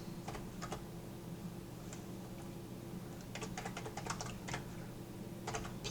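Typing on a computer keyboard while entering text, with quiet clustered key clicks in short irregular bursts over a low steady background hum.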